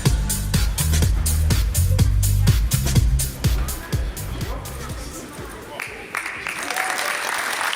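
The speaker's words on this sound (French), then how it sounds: "Tout un applaudissement, messieurs dames." Audience applause at an awards ceremony for sports champions, a dense burst of clapping that stays loud for several seconds before thinning toward the end, with crowd murmur and a voice underneath.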